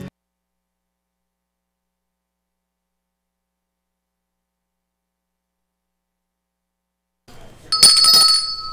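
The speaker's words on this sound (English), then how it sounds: "Yeah, I can't stand this bell." A loud bell rings on a live TV show set, bursting in sharply near the end after a long stretch of silence and sounding bright and close.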